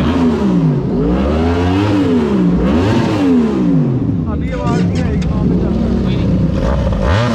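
A new motorcycle's engine is revved up and down several times, loud and close, each rise and fall in pitch distinct, before settling into a rougher idle with some voices nearby.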